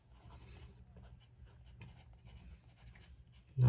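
A Lamy Safari fountain pen filled with Lamy Dark Lilac ink scratches softly across 120gsm Leuchtturm1917 notebook paper, a faint, continuous close-up rasp of steady strokes, ending in a sudden loud bump.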